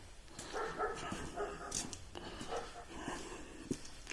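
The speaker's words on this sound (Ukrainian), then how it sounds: "Собака гавкає." A dog barks outdoors on its first day out in the fresh air, several short sharp barks in an irregular run at moderate distance, with rustling background and no speech.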